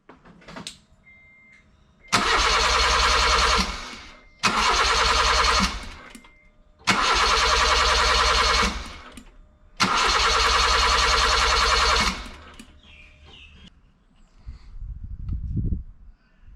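A Honda Civic D16 engine cranks over on the starter with its fuel injectors disconnected, four steady mechanical churning bursts of about one to two seconds each, separated by short pauses, close and loud without firing.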